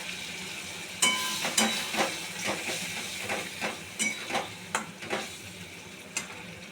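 Fried prawns sizzle in a poppy-seed masala in a pan, a steady hiss broken by repeated sharp scrapes and clacks of a spoon stirring, close and moderately loud.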